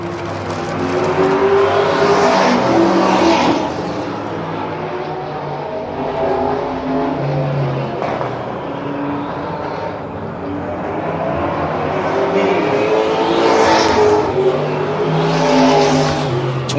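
K&N Series stock cars race out of turn four at Dillon Motor Speedway, a short track, their engines roaring in swelling, overlapping passes at moderate distance while an announcer talks.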